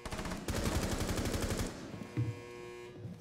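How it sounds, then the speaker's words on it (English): Machine gun in Rainbow Six Siege firing a rapid burst of about a dozen evenly spaced shots lasting over a second, loud and close, followed by a couple of quieter thuds and echoing tail. "to pull out our machine gun now"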